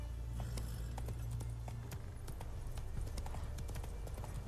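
Horse hooves clip-clop steadily in The Witcher 3 video game, a brisk even rhythm of close, loud hoofbeats over a low rumbling background, with no voices.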